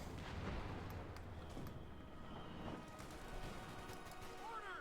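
Grenade blast amid continuous battle noise in Company of Heroes 2, a World War II strategy game match with Panther tanks, the explosion buried in dense, steady gunfire and rumbling combat.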